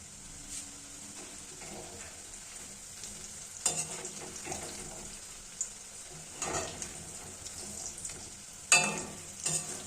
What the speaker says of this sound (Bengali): এবার আমরা গরম তেলে সেটা একটা একটা করে খুব সুন্দরভাবে লাল লাল করে ভেজে নেব।